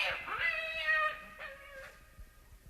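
A cat in a radio drama gives two or three whining, drawn-out meows, fairly clear and close, then trails off into quiet.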